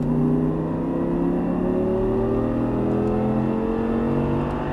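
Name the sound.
Audi R8 accelerating out of a turn on a track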